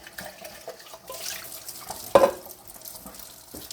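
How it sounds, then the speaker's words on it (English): Metal food cans rinsed under a running kitchen tap, with steady water flow, a sharp clatter or splash about midway, and light handling noises throughout, with no talking. "Just rinsing the cans, and they go out in the recycle."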